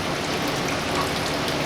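Water draining steadily from the engine of a 1960 Ford F100, a continuous close, loud splashing rush with no pauses and no voices.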